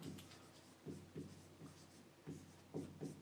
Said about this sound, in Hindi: दोबारा मैं लिखता हूं आपके लिए